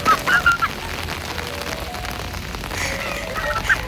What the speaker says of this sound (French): Regardez la pluie qu'il y a.